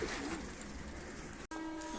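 Pigeons at a loft, some of them recently dosed with medicine, give soft steady cooing throughout, with a brief drop-out near the end before the calls resume.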